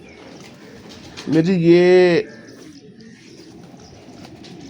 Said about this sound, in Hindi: एक फिरोजपुरी टैडी का कबूतर है